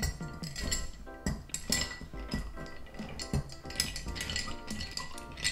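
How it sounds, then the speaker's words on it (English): A spoon stirs ice in a rye whiskey cocktail, with steady clinking and rattling from the ice against the glass and metal, continuous and close, with several sharper knocks. "Throw some ice in there. Give it a stir."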